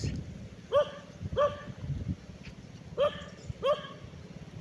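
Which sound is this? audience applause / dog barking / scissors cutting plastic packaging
dog barking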